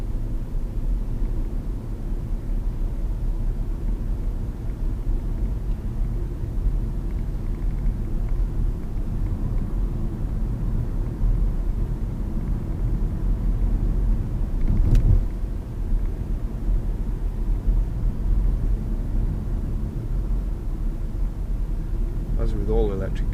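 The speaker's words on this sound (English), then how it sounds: "As I put my foot down, you probably heard the engine come in" Petrol engine of a 2011 Lexus CT 200h hybrid running steadily under acceleration, a continuous low rumble with road and cabin noise, holding an even level throughout with a brief swell near the middle.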